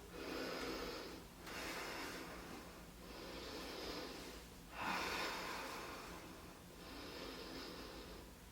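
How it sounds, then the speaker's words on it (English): Deep, slow breaths during a power yoga hip-opening lunge, several long inhales and exhales in a steady rhythm, close and fairly soft with no talking. "Taking 3 breaths here."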